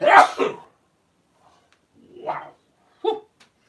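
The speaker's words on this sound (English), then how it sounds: "Nothing like a good sneeze every once in a while." A sharp, loud sneeze bursts out, followed by quieter breathy exclamations from a person.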